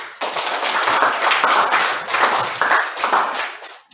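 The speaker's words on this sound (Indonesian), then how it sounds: "Tepuk tangan." A classroom group claps their hands in a brisk burst of scattered, overlapping claps that starts abruptly, holds steady for a few seconds and tapers off at the end.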